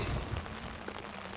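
Rain patters steadily on a surface, a brief dense wash of drops with a low rumble at the start.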